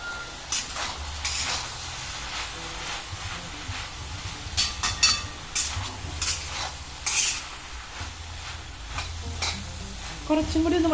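A spatula stirs jackfruit seed and snake gourd thoran in a pan, with steady soft sizzling and repeated scraping strokes close by, no talk.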